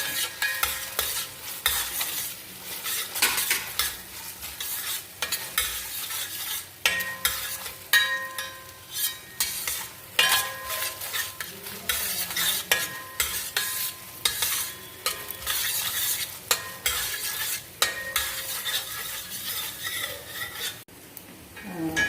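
Pieces roast in ghee for an Onam paayasam, with a soft, steady sizzle under repeated metallic scraping and clinking of a spoon stirring against the pan; no speech.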